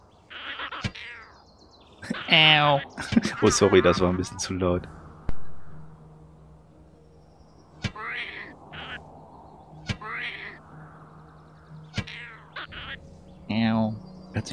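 Several short high-pitched meows from a game creature, scattered across the clip, alongside someone talking and brief sharp clicks and hits.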